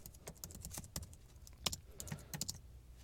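Close, quick keystrokes tapped on a computer keyboard in an uneven rhythm, with a louder clack in the middle and a fairly quiet background.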